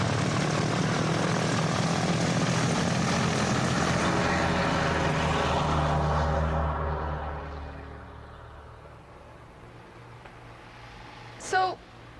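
A propeller airplane engine drones loud and close at first, then gradually fades as it pulls away, leaving a faint hum with a brief whine near the end.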